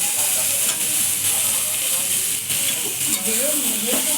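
Spices frying in oil for a meat curry sizzle and hiss steadily while being stirred, with scraping under a constant loud frying noise and no speech.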